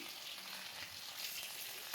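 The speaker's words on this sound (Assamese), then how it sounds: "পাঁচফোৰণ দিয়াৰ পিছত আমি পিঁয়াজখিনি দি দিছোঁ।" Onions frying in hot oil with five-spice seasoning, a dense, even hiss of sizzling close by for the whole stretch, with no talk.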